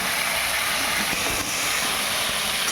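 Chunks of taro root and potato fry in hot oil with fenugreek seeds, giving off a loud, dense, continuous sizzle and hiss at close range.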